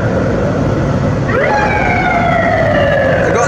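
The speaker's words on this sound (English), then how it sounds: "I got these noises, alarms that you get when you're going through the tunnel" A tunnel warning alarm on a major South Korean freeway at about 100 km/h: a steady, siren-like electronic tone starts partway through and holds, laid over the loud, constant rumble of road and wind noise.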